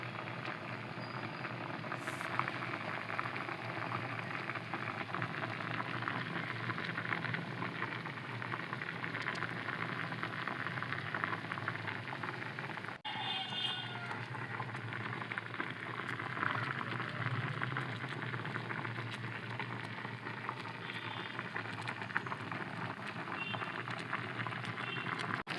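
Milk kozhukkatta dumplings simmering in a pot of thickening milk, giving a steady, continuous bubbling hiss that stays even throughout with no talk.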